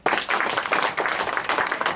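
An audience at a gathering breaks into dense, enthusiastic applause, many hands clapping together close and loud for the whole stretch.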